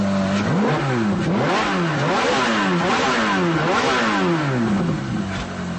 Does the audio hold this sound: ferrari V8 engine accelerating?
yes